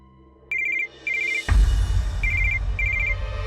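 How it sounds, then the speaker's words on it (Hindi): Telephone ringing in a room, a bright electronic warbling ring in short trilled bursts, repeating several times, while a low rumbling background swells in beneath it; no talk. "इस वक्त वो देवराज समायरा को फोन किया होगा, हमेशा इसी वक्त करता है, उसी का फोन होगा।"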